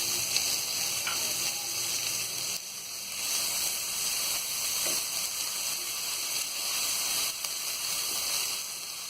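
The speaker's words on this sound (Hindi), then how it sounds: "अब इसमें हम डाल देंगे ये आलू। आलू को हम थोड़ा तल लेंगे।" Potatoes frying in oil in a pan, a dense, even sizzle holding steady and fairly close throughout, with a faint tap or two of a utensil.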